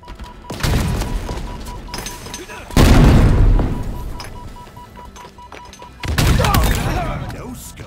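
A sniper rifle headshot in a video game, a loud booming shot followed by two more heavy gunfire bursts with decaying tails, set over game effects and a steady tone.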